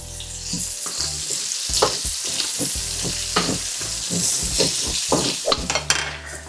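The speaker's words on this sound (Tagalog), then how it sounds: "Gisahin lang natin maigi to" Onions sautéed on low heat for creamy pork belly, frying until caramelised: a continuous close sizzle with repeated scraping stirs of the spatula and light background music.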